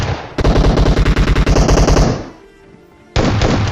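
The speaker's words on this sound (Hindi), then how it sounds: "पहली बार में 2 शॉट देके उसको डैमेज किया" Gunfire in a mobile battle royale game, with a shotgun in close-range combat: a loud, rapid string of shots lasting over a second, a brief lull, then another sudden burst, with no talking.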